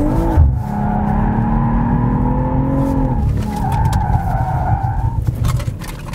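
A BMW M340i xDrive held in a drift, its tires squealing in a long, loud, wavering screech over the engine's drone, close up with no talking.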